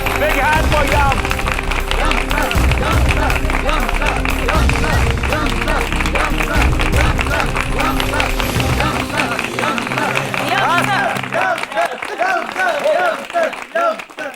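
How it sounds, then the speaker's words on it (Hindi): An audience claps and applauds at a staged comedy event, a dense, steady patter of many hands with crowd murmur and raised voices mixed in, tapering off near the end. "ये देखो हमारे दुश्मन दूसरे दुश्मन के लिए तालियां बजा रहे हैं"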